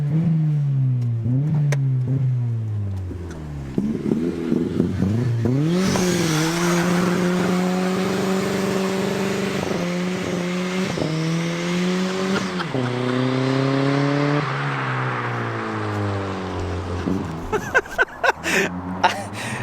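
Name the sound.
turbocharged Toyota Yaris engine revving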